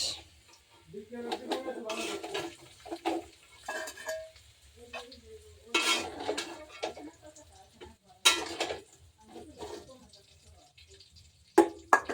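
Malabar spinach fruit stirred in a frying pan for a breakfast fry, giving scattered scraping and clinking strokes with a soft sizzle underneath, irregular and close, with a few sharper knocks near the end.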